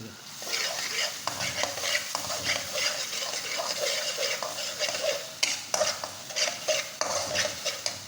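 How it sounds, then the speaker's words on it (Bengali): Spice paste sizzles and fries in a pan while a utensil stirs and scrapes it in steady, irregular strokes, close and moderately loud, with no talking. "মশলাটা কিন্তু বেশি করে কষা বুঝছেন"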